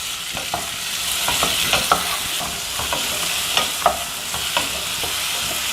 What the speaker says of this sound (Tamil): இன்னும் கொஞ்சம் நேரம் வதக்கிக்கலாம்.